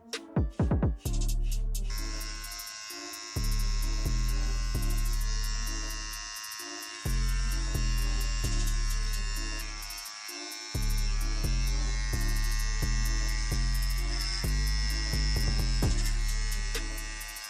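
A beginner clipper from The Cut Buddy kit hums steadily through a self haircut on the back taper, its buzz rising and dropping in short stretches as it meets hair, loud and close with no talk.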